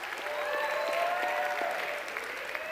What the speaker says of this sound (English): Let's give Kim a big round of applause